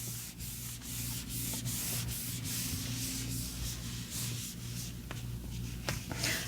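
An eraser rubs back and forth over paper in steady, close scrubbing strokes, accompanied by a low hum and a few soft taps.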